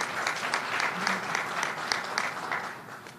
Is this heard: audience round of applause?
yes